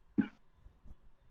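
A single short cough, fairly close and moderately loud, followed by quiet room background with no talking.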